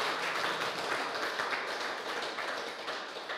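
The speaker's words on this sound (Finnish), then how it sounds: "annetaan raikuvat aplodit kaikille" Dense, steady applause from an audience at a Finnish revival meeting in Hämeenlinna, a continuous wash of many hands clapping that fades slightly toward the end.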